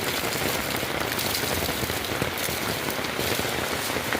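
Steady rain falls on nearby surfaces, a close, even patter of countless drops with scattered sharper splats, continuous and unaccompanied by any talk.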